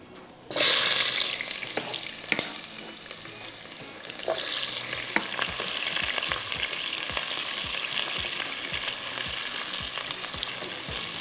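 Sliced onions drop into hot oil with a sudden loud sizzle, then fry steadily with a crackling hiss and occasional scraping stirs.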